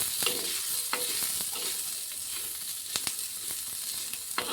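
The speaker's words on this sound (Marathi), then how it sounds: "आता आपण त्याच्यावर थोडं एक पाई तेल टाकलं आणि लसण आणि आपलं अद्रक। आता त्याला थोडं हलवून घ्यायचं आपण।" Garlic and ginger frying in oil with a constant bright sizzle, a spoon stirring and scraping the pan in sporadic clicks, close and steady without talk.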